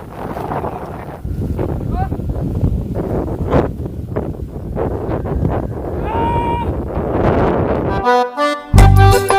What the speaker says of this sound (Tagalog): Sobrang lakas ng hangin ngayon